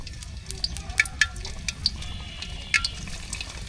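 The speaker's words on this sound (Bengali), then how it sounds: "এখন পিঠাটা তেলে ছাইড়া দিন ভাজার জন্য" Hot oil sizzles steadily with a soft bubbling hiss, broken by a few sharp crackles and pops as pitha (rice-flour cakes) fry.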